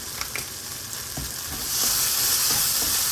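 Masala with a pinch of sugar sizzles and fries in a pan while being stirred, with a steady close hiss that swells louder in the second half and a few scraping taps.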